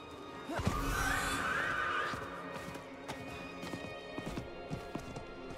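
Horse whinnying loudly, then hooves clip-clopping in a steady rhythm as the horse is ridden in the video game Diablo IV, with the neigh fading into quick, regular hoofbeats.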